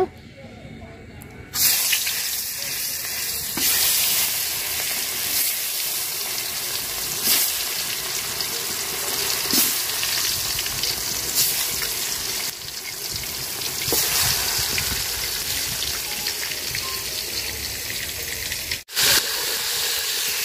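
Fish sizzling in hot oil in a cooking pot, a continuous broadband hiss and crackle that starts abruptly and runs steadily, loud and close, with a brief break near the end.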